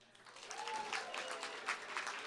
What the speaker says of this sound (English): Clap it up if you're in a couple and you're in love.